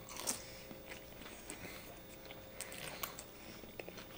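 Someone close to the microphone bites into and chews Panda Express takeout food, producing soft crunches and wet chewing sounds in irregular bursts over a quiet background.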